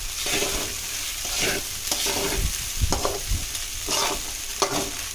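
Crushed peanut powder stirred through hot oil in a pan, giving a steady close sizzle with repeated scraping strokes of a spoon, no voices.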